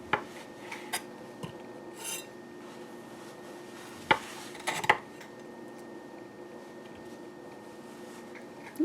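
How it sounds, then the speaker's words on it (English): A knife slices through a rolled dessert sushi made with peanut butter, giving soft rasping scrapes and a few sharp taps against a board or plate, with sparse cutting sounds spread across the clip and louder clicks near the middle. "let's cut some more slices"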